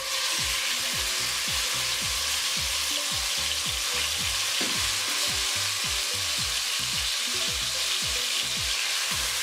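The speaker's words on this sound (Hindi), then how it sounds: "अब हम इसमें डालेंगे ये चिकन जो हमने मैरिनेट करके रखा था।" Marinated chicken sizzles and fries in hot oil in a kadai, with a steady dense crackle and occasional stirring scrapes throughout, no voices.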